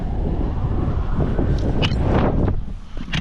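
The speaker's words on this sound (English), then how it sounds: "You hear that wind?" Strong cold wind blows across an outdoor construction site, making a loud, continuous rumbling roar that buffets the microphone for the whole stretch, with a few faint higher rustles.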